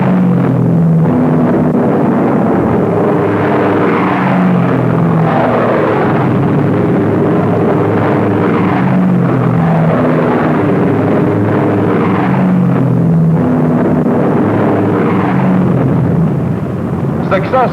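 Fighter aircraft take off on an Allied escort mission, a loud, continuous engine roar that swells and rumbles over the full stretch, with a narrator speaking over the noise.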